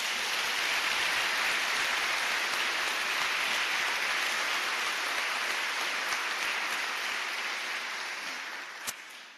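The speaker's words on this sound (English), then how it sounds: "So I believe that applause would be appropriate." Sustained audience applause in a college hall at an academic year opening, dense steady clapping for several seconds that gradually thins and fades near the end.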